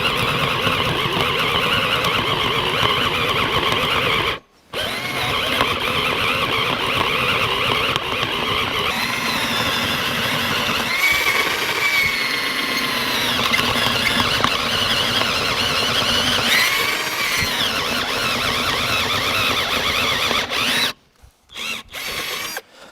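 Cheap cordless drill from Amazon drilling into material, a loud whining motor with squealing bit noise that runs almost continuously, broken by a brief pause and then stopping near the end.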